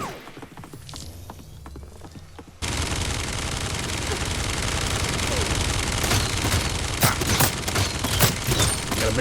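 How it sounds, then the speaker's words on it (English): A minigun in the Realm Royale battle game fires a sustained, dense rattling stream of rapid shots that starts abruptly and continues loud to the end, with scattered game effects and a voice in the quieter lead-in. "Got a big old minigun."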